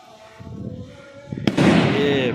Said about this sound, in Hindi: पटाखा चला दिया